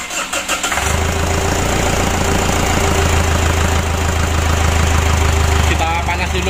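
The engine of a 2012 Mitsubishi Pajero Sport Dakar that runs rough cranks and fires after about a second, then settles into a steady, loud, close idle with a low rumble.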